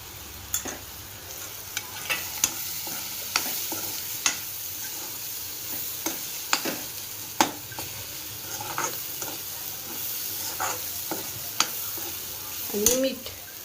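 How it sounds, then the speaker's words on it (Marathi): Chana dal bhaja pieces stirred into a frying pan: a steady soft sizzle under scattered scraping and clinking spoon strokes, close by, with a brief faint voice near the end. "हा भजा टाकूया याच्यामध्ये."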